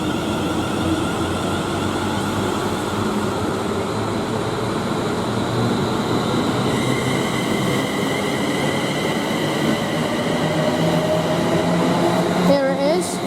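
A British Class 350 passenger train runs past at Rugby on the West Coast Main Line, a loud continuous rumble and whine holding steady throughout, with a brief rising electric tone near the end.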